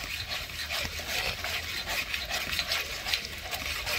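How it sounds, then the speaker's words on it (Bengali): A paste of cashew and onion fries in a pan as chicken kosha is made, with a low steady sizzle and soft repeated scraping from stirring throughout; nobody talks. "এটাকে ভেজে নেব এখন।"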